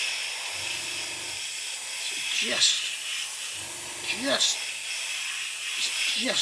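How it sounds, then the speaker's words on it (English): A few short hissing bursts from an aerosol spray can, sprayed very lightly onto a 1/35 scale HobbyBoss Scammell Commander model kit, spaced a couple of seconds apart, with faint speech in between. "you spray it on very, very lightly"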